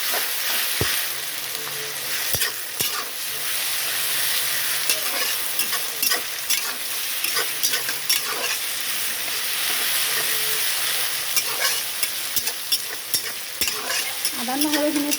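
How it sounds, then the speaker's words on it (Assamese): Ginger and garlic paste sizzling hard in a hot pan. A loud, constant frying hiss runs throughout, broken by frequent sharp taps and scrapes of a spoon stirring the mixture. "আদা নহৰুখিনি ভালকৈ ভাজি ল'ব লাগিব।"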